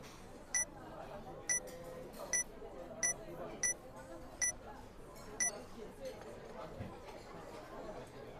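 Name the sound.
strange beeping sound in a video game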